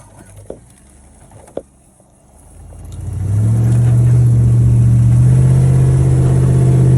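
Four-wheel drive vehicle stuck off-road on open land: after a few faint clicks and quiet, the engine rises into a loud, steady revving drone that holds to the end.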